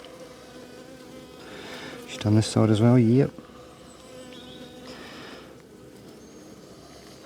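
Honeybees buzz steadily around an opened beehive frame full of eggs, a close, dense drone with one bee swelling loudly past the microphone for about a second, while a person talks briefly.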